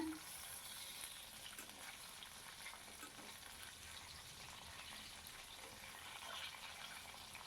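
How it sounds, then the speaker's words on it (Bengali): Faint, steady hiss of koi (climbing perch) fish frying in oil, a continuous crackling sizzle heard from a distance with no other sounds standing out. "মাছগুলো হালকা করে আমি ভাজা করে নিচ্ছি দেখো"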